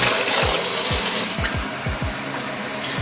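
Water pouring into a blender jug while measuring two cups for Mexican rice, a steady close splashing stream with gurgling pulses, easing slightly toward the end.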